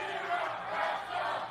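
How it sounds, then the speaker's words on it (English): A wrestling crowd in historic Davis Arena chants loudly and continuously, a dense roar of many voices filling the hall. "Cowboy Shera chants deafening here in historic Davis Arena."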